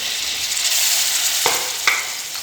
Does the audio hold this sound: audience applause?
no